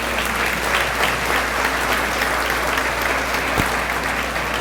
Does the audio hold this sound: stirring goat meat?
no